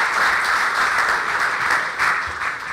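Steady audience applause at a startup competition conference, a dense even wash of clapping from a seated crowd that holds at constant loudness throughout.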